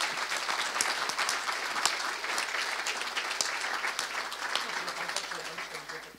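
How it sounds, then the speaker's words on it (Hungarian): Steady, dense applause from a live audience at a Hungarian podcast event, many hands clapping continuously at full strength, fading slightly at the very end with no speech. "ha egy tapsot megérdemelnek"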